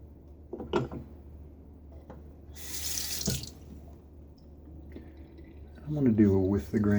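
Bathroom tap briefly running to wet a shaving brush for a mug shave, a short splashing gush amid quiet clinks and handling noises, followed by someone talking.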